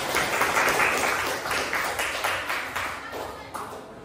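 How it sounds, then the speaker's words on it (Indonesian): Classroom applause for student group presentations in an Islamic education teacher-training session, moderately loud clapping that fades gradually, with a voice talking over parts of it. "kita berikan tepuk tangan yang luar biasa"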